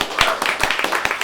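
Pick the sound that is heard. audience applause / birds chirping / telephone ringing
audience applause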